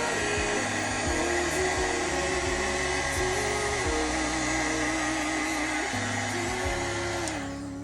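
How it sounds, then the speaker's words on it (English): A heat gun blows steadily and loudly on UV resin art for several seconds, a continuous broadband rush with a low motor hum that eases off slightly at the very end. "I did pull out my heat gun."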